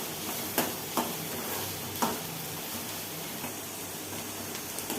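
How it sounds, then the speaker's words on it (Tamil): Onions sautéing with curry leaves in a pan, a steady close sizzle with a few sharp clicks of a spoon stirring against the metal, no voices. "இப்போ வெங்காயம் வதங்கிட்டு இருக்குது."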